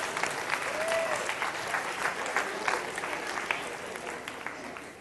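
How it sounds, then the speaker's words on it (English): Audience applause fills the room for a volunteer after a live seminar demonstration, steady clapping with a light whistle near the start, sustained for the whole stretch. "Please give my caveman a big round of applause."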